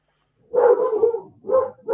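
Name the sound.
dogs barking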